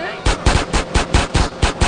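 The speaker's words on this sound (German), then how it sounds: "Ja, knallt ihn ab, Mann." Rapid bursts of automatic gunfire from a shootout against enemies in GTA San Andreas, roughly eight loud, closely spaced shots in a steady rhythm, heard alone.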